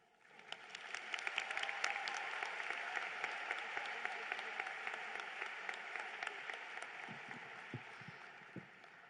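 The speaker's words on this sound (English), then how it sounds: "Please join me in giving a round of applause for our advisors and Dr. Mansiri" A crowd applauds at a 2019 high school graduation ceremony in a large hall, clapping swelling quickly, then holding steady and gradually thinning, heard from a distance.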